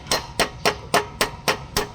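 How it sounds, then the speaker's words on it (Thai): A hammer strikes a part into a car clutch housing with seven evenly spaced sharp metallic taps, close and distinct, in a steady rhythm. "ตอกเข้าไปเลยนะครับ ตอกเข้าไป"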